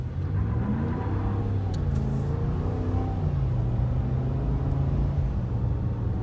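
A 2020 RAM 1500 Warlock quad cab truck with a Hemi V8 accelerating: a deep, steady engine rumble with rising tones as it gains speed, close and continuous with no talking.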